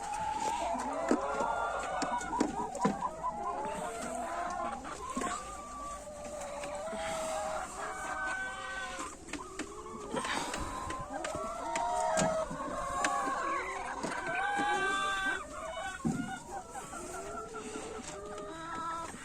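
Hens cluck and murmur steadily throughout, with occasional sharper calls rising over a busy, continuous background.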